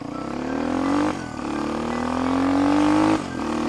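A KAYO K6 motard motorcycle's fuel-injected engine revs in two rising pulls, each climbing in pitch before dropping off as gears change, loud and close.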